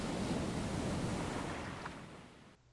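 Steady ocean surf washing in from the survival video game Stranded Deep, a continuous loud rush of waves with some wind, fading slightly toward the end, with no voices.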